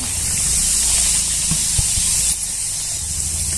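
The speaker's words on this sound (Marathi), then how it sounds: "आपल्याला तूप छान असं गरम झालेलं आहे आपण रवा घालून घेऊया" Semolina poured into hot ghee in a pan, giving a steady loud hiss and sizzle throughout, with a couple of faint clinks in the middle.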